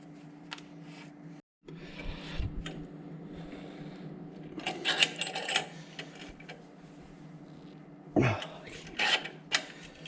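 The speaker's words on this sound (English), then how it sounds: "now I'll get my brake tool, push that caliper back in" A handheld brake caliper tool on a Chevrolet Trailblazer being cranked to push a stiff caliper piston back in, giving a series of close mechanical creaks and ratcheting clicks with short bursts of louder scraping.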